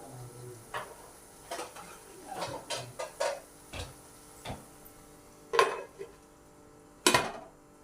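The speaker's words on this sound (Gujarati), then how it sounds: "આની ઉપર ઢાંકણ ઢાંકી દઈશું।" Metal utensils clink against a pan of potatoes cooking for poha, and a lid is set on with a final louder clatter over a faint sizzle.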